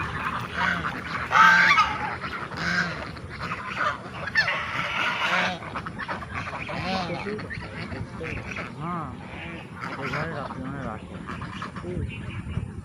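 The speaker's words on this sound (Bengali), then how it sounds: "রাজহাঁস।" Domestic geese honk repeatedly while feeding, loud and nearby in overlapping bursts, with people talking throughout.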